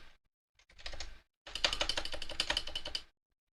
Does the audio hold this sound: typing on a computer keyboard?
yes